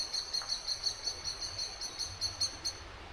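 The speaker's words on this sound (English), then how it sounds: "Blackbirds." Faint, repeated high chirping blackbird calls against a steady low background hum, with the song notes recurring in short bursts throughout, in Clapham, North Yorkshire.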